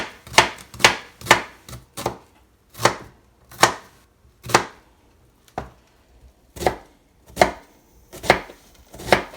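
A knife chopping red onion on a board in a home kitchen, sharp repeated thuds in irregular bursts, close and loud with quiet gaps between strokes.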